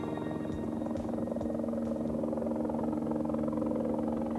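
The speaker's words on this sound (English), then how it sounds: "A state police helicopter flies over the funerals of two fallen troopers." A state police helicopter passes overhead during a funeral for two fallen troopers, a steady close engine drone with a low rotor hum that holds loud and even throughout.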